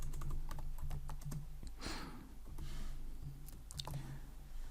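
Typing on a computer keyboard while writing code, a close, steady run of quick key clicks in uneven bursts, with a brief pause and a soft rushing noise midway.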